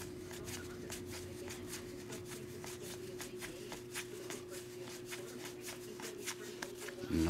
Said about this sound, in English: You just gotta be careful when you're sliding the cards because sometimes one will stick to the back